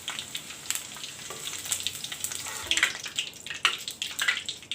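Cauliflower pieces fry in a pan of oil with a steady crackling sizzle, and sharper pops and spits rise at intervals over the hiss. Nobody speaks.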